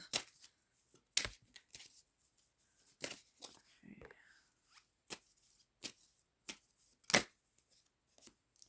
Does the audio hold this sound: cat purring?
no